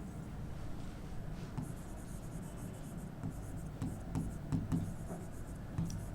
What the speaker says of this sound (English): Write down the given equation